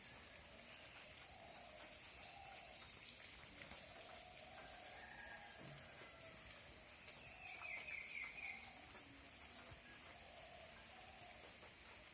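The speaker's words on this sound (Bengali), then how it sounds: "তো প্রথমে পাখির ডাকগুলো শুনে নেন" Birds call faintly in the early morning during light rain, with scattered soft chirps and a few clearer tweets over a quiet, steady background.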